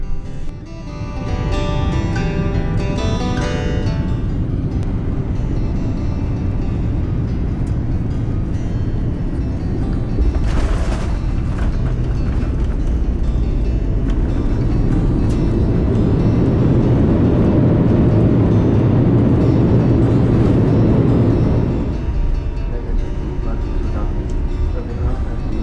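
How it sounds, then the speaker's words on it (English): A Boeing 787 lands with full reverse thrust, a loud, steady cabin roar of engines and rushing air that swells mid-way, then eases off, heard from inside the cabin. "We touched down on time using full reverse thrust."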